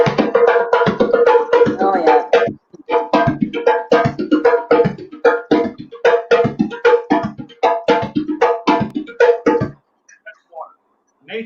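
A hand drum is played at full speed in a six-beat water rhythm mixing tones and slaps, giving dense rapid strikes that run steadily before stopping near the end, when a brief voice is heard.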